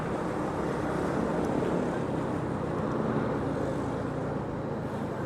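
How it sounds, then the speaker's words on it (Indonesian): An old Honda 125 underbone motorcycle hums smoothly while riding a mountain road, its steady engine drone blended with heavy, constant wind rush and no distinct beats. "biarpun motor tua tapi halus suara mesinnya tuh."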